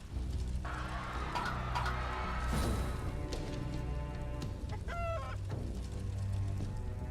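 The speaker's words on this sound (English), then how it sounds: "Chickens again, probably." Chickens cluck and a rooster crows in the video game Fate Grand Order, a busy layer of farmyard calls over steady background music, with no talk.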